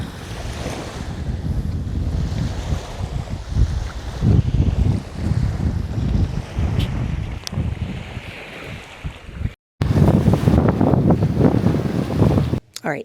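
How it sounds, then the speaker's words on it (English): Ocean surf breaking on a Red Sea shore by a luxury resort, a steady loud wash of waves mixed with heavy wind rumble on the microphone, briefly cut off near the end before resuming. "I just wanted you to have this experience coming down here to the water and listening to those waves"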